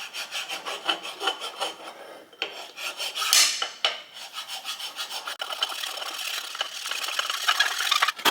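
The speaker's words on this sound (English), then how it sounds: "Telling me that's high, so we'll file a bit off." Steady, rhythmic rasping of a file worked back and forth across a big bronze engine bearing during restoration, close and continuous with a brief pause partway through, no talking.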